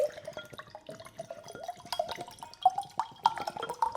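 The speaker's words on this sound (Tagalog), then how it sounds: "Inom na lang muna ako ng tubig." Water trickling and dripping close by, with small irregular splashes and gurgles as it is poured for drinking, quiet and without talk.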